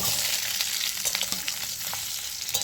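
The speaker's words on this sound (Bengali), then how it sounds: "তেলটা গরম হয়েছে, তেলের মধ্যে আমি আলু দিয়ে আলুটা প্রথমে ভেজে নিচ্ছি।" Potatoes fry in hot oil in a wok, with a continuous crackling sizzle and occasional sharper pops, close and fairly quiet, with no voices.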